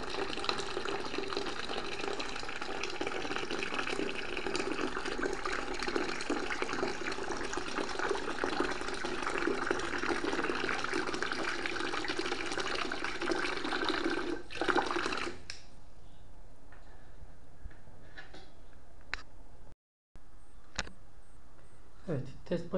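A small 12-volt water pump for drip irrigation runs with a steady, moderately quiet hum and trickle of water, then cuts off, leaving near silence with faint clicks.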